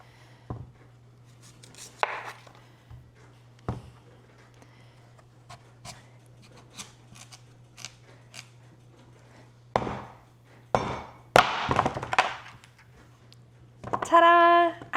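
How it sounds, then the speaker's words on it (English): A knife chops sweet potato on a cutting board in a home kitchen: sparse, quiet single knocks with long gaps, then a few quicker cuts near the end over a faint steady hum. "then we'll chop a little bit more."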